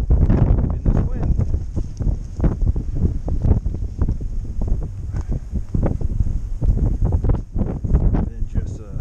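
Strong wind buffets the microphone on the Appalachian Trail, a loud continuous rumbling roar with gusty surges throughout.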